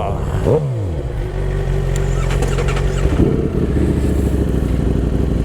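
A Suzuki GSX-R 750 sport motorcycle engine revs loudly and close, its pitch sweeping down then holding a steady, throaty drone with a brief rise near the end, continuous throughout.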